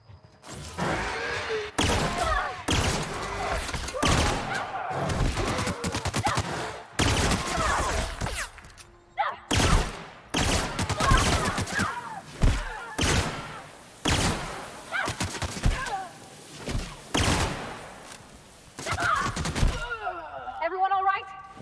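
Gunfire in the sci-fi game The Outer Worlds, repeated sharp shots and bursts in quick clusters throughout a firefight, mixed with thuds and other game effects, with voices talking in between.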